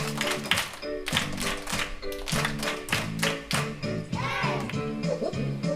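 Hand claps and pats from a children's clapping game, a quick regular pattern of sharp taps and slaps close up, kept in time with a song.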